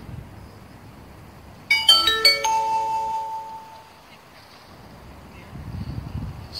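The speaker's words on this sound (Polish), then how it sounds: "zaburczało chyba w drugim telefonie." Notification chime from a second mobile phone outdoors beside a sailing ship: a quick run of bright ringing tones followed by one lingering note, set against wind noise and low background rumble.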